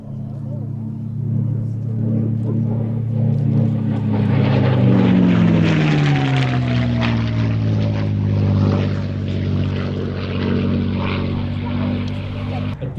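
A North American P-51D Mustang fighter's propeller engine drones loudly, rising and falling in pitch as the plane passes, with a voice talking over it.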